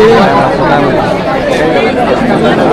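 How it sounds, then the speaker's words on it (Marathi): Dense chatter from a large crowd waiting in a temple queue at Salangpur Hanumanji in Gujarat, a loud close babble of many overlapping voices that stays constant throughout. "8 वाजलेत तरी पण ही खूप जास्ती गर्दी आहे"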